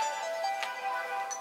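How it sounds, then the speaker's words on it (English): A mobile phone ringtone plays as a soft, tonal electronic melody with a few short bright notes, heard faintly and alone for just over a second. "sorry, that's my phone."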